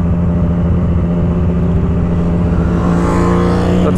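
A Ducati 899 superbike approaching on a street, its engine a steady loud drone that builds in pitch and intensity toward the end as it nears.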